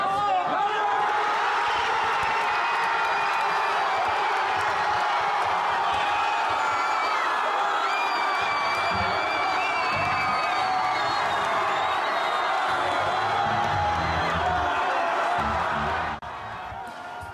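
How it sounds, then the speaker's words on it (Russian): A large crowd of Russian football fans cheers, shouts and chants at an outdoor stadium viewing of a Russia–Croatia World Cup match. Continuous loud roaring is marked by rising whoops and rhythmic chants, with some talking in the mix. "На протяжении всего матча бийчане скандировали с трибун различные кричалки."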